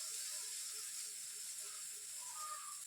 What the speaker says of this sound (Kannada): ಪನ್ನೀರ್ನ ಫ್ರೈ ಮಾಡ್ಕೊಳತ್ತೀನಿ